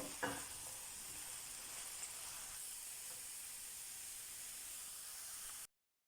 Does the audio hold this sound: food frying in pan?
yes